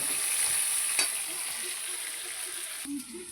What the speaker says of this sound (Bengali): আলুটা ভাজা হোক, একটু ভাজা হবে